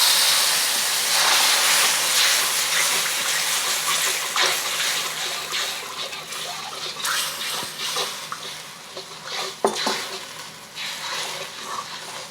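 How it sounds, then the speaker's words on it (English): Sauce bubbling and hissing in a hot pan with crispy Mongolian beef, a steady, loud broadband sizzle with occasional sharper pops and crackles, no voices. "Adding our sauce."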